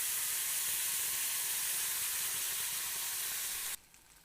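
Cardamom, cloves and cinnamon frying in oil for a chicken curry give a steady, close sizzle that stops abruptly near the end.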